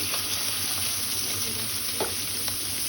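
Pomfret fish frying in oil on a large flat pan, a steady close crackling sizzle running throughout with a low background hum and faint scattered pops.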